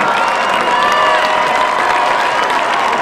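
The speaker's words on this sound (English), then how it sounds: "Let's have a round of applause for Tyson" Crowd at a high school football game between West Allegheny and Hampton bursts into steady, loud applause and cheering, dense and continuous throughout.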